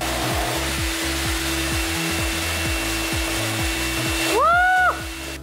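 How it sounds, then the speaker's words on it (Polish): A large drill bit bores through a wall beside a ventilation duct with a loud, steady motor drone and a rhythmic grinding pulse, briefly rising to a whine near the end. "zaraz obok wentylacji będzie to idealne miejsce, żeby przewiercić się ogromnym wiertłem"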